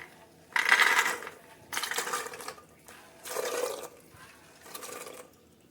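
Dried peas rattle and patter into a metal pressure cooker holding potatoes in four separate pours, each a short dry burst with brief pauses between.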